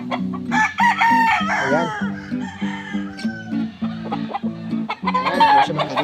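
A rooster with white-flecked neck and head feathers crows loudly up close, with clucking before and after, while someone speaks briefly.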